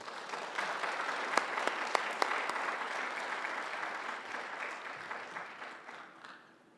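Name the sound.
congregation applauding to welcome the pastor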